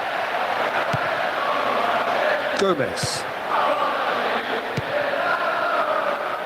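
A football crowd at a Premier League stadium roars and murmurs broadly in the background while a commentator talks over it, with a brief swell partway through.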